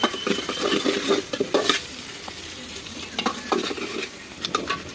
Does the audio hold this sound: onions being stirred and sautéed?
yes